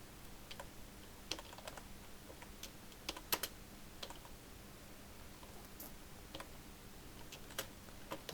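Steady typing on a computer keyboard while entering text in a Microsoft Word invoice, with quiet, irregular key clicks and a few sharper taps spread across the stretch, recorded close and without talk.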